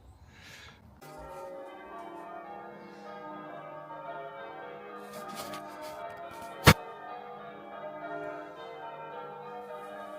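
Church bells ring along a steep hilly road, a sustained bright tolling with layered ringing tones that carries for several seconds after a brief lead-in, with one sharp knock partway through.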